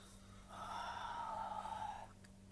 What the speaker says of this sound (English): So you take a breath in